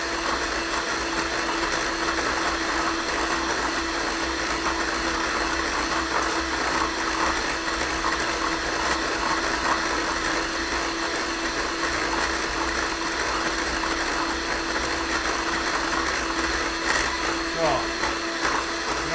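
An electric mixer whips cream into peaks in a kitchen, giving a loud, steady mechanical whirr with a faint rattling edge that runs unbroken through the whole stretch.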